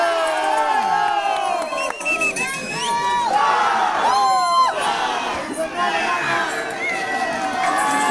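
Football crowd at a stadium in Huachocolpa, Peru, cheering and clapping throughout, with shouts and whoops rising in a loud, continuous wash.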